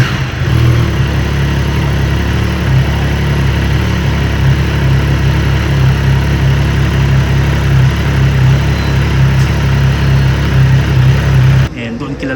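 A liquid-cooled, dual overhead cam inline-triple engine of a new 2025 Triumph Trident 660 motorcycle runs steadily and loud at close range, a constant low drone that cuts off near the end.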